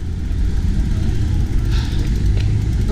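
A vehicle rolls past on a Paris street, a steady, heavy low rumble of engine and tyre noise holding level throughout without a clear peak.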